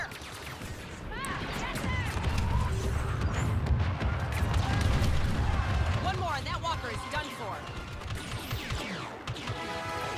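Heavy weapon fire and explosions during a Star Wars Battlefront II campaign battle on Jakku, with bursts of shots and crashes over a dense rumbling mix of game music and effects, a voice talking over it.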